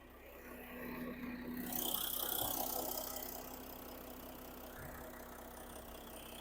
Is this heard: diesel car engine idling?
yes